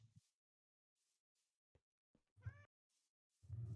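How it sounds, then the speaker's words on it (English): A young cat gives a series of tiny, squeaky meows, the short mews scattered with pauses and a louder, fuller cry near the end, close by with no talking over them. "Lots of cat noises."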